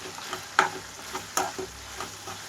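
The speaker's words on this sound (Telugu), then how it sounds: "ఇప్పుడు ఇందులోకి నేను రెడీ చేసుకున్న కారం మసాలా ముద్దని ఇందులోకి వేసేసుకుంటున్నాను" Chili masala paste dropped into hot oil for a chicken fry, giving a soft sizzle with a couple of sharper crackling bursts, close and fairly quiet.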